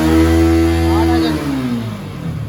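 A Yamaha R15 motorcycle engine held high at about 8000 RPM, loud and close, its pitch winding down after a second or so to a rougher, lower idle-like note.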